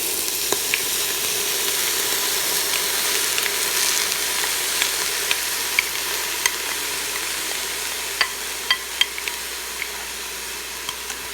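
Washed rice stir-fried in an Instant Pot for Chinese sticky rice gives a continuous close sizzle, with scattered small clicks and pops of grains being stirred, louder taps toward the end and no talking.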